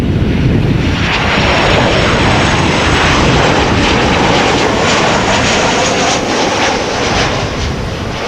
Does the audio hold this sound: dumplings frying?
no